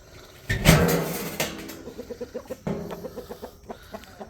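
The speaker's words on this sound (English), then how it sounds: "And this was a rooster we hatched out" Chickens cluck close by: a loud squawk early on, then a series of short, rhythmic clucks repeating steadily, with no voices.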